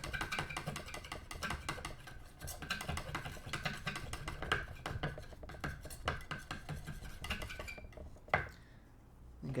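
A brush works gouache paint on a palette in quick, soft scrapes and taps, a busy close-up scratching that carries on steadily with small clicks.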